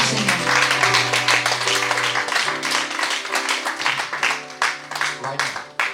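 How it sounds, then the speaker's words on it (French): Church congregation clapping in praise of God during a bilingual sermon, a rhythmic round of applause over sustained organ or keyboard chords, with voices mixed in. "Can we give God a hand of praise?"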